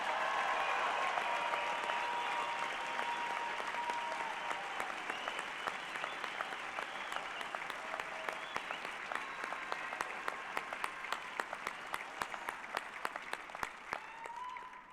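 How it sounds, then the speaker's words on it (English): Sustained applause from a graduation ceremony audience at Kalamazoo Valley Community College fills the hall, dense and loud at first, then thinning into scattered, distinct claps toward the end. "join me in a resounding and deserved applause for each of the graduates of Kalamazoo Valley Community College"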